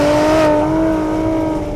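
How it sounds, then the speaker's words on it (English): A Mercedes-AMG GLC 43 Coupe's V6 engine revs loudly and steadily, holding a strong humming growl close by, with no voices. "It's got a sweet V6 soundtrack."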